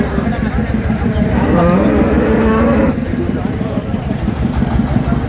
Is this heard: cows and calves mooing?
yes